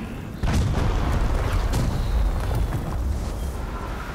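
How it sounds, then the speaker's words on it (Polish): Orcs blowing up in the video game Middle-earth: Shadow of War: a dense, continuous rumble of overlapping explosive booms and bursts that starts abruptly and stays loud throughout, with no talking. "jakby losowe orki po prostu tutaj wybuchają"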